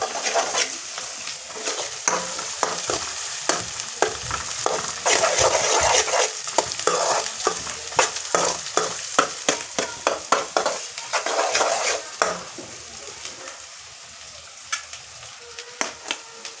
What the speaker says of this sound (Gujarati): મરચાં નાખીને હલાવી નાખી